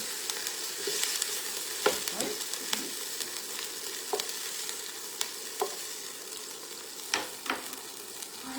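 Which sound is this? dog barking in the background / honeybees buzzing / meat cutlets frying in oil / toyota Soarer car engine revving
meat cutlets frying in oil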